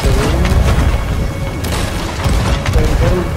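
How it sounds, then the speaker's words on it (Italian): In a video game, gunfire hits the ground in loud, dense, booming bursts mixed with crashing impacts, rough and continuous throughout. "Sì, sparo tutto per terra."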